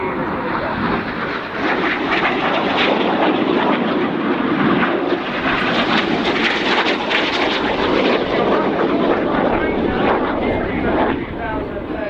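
Red Arrows jets flying an aerobatic display manoeuvre with coloured smoke at RIAT 2013, giving a continuous loud, broadband engine roar that holds steady throughout with a slight swell in the middle.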